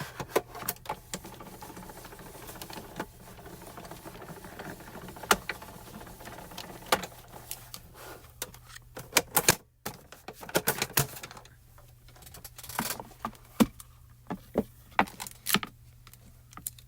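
A die-cutting machine pressing a stitch die through cardstock for a layered flowering vine stencil project, producing a run of close mechanical clicks, rattles and clunks with brief pauses and a sharp burst of activity midway, no voices.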